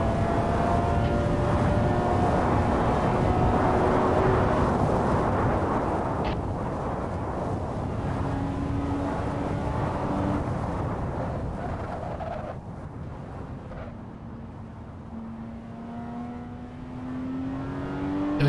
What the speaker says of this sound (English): Get the wonderful Porsche 911 GT3 screaming.